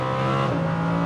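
Lamborghini Huracan V10 accelerating hard on the track at Las Vegas Motor Speedway, a loud close engine note with rising harmonics and a quick gear change midway, no voices.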